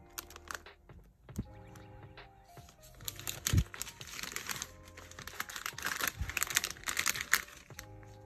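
Orders being packed with crinkly plastic packaging and wrapping, giving a busy run of rustles, crinkles and soft taps, with a few sharp handling knocks and thuds along the way.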